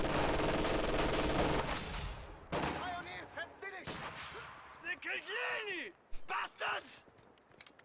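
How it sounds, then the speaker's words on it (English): Gunfire from PTRS anti-tank rifles fielded by Guards infantry in Company of Heroes, heavy loud bursts early then sharper separate shots, with caster commentary and battle noise throughout. "Guards with PTRSs fire on some infantry over there."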